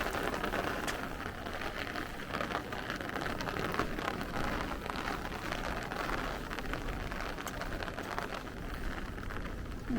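Heavy rain pours down on a Brooklyn street, a dense, steady hiss of drops hitting pavement with occasional louder splashes, continuous and close with no voices.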